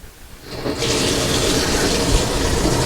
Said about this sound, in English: so now we have our water running